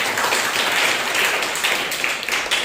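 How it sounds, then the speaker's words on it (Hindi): Loud, steady applause from a church congregation at a Sunday morning service, a dense wash of clapping sustained for a few seconds without pause. "जोरदार ताली"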